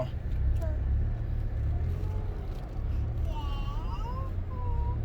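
A car engine idles and runs steadily as the vehicle sets off, its low rumble continuous throughout while people talk over it.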